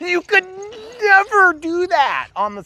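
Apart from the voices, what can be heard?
No everyday noises stand out.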